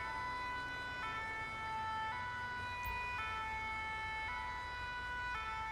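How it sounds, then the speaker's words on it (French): In GTA 5, a French fire brigade ambulance (VSAV) sounds its two-tone siren, alternating evenly between high and low notes at a steady pace, continuous and unaccompanied by speech. "Ok, ils arrivent, regardez, le VSAV se présente."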